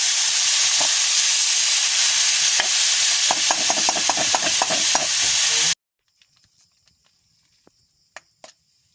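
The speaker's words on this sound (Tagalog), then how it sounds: "i-mix lang natin para mag-bonding together yung yung wangba at saka yung ating kangkong" Kangkong river spinach being stirred in a pan for adobo, with a quick run of scraping, clattering strokes over a steady sizzle that stop abruptly, leaving a few faint taps.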